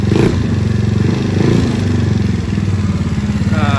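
An Ice Bear Maddog motorcycle engine idles steadily up close, with a faint, rapid mechanical tapping ticking along beneath the continuous low rumble.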